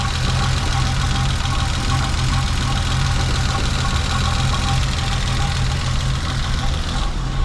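BMW E30 engine idling smoothly with new spark plugs and ignition wires, a steady low hum and even rumble holding constant throughout with no misfires, close and alone.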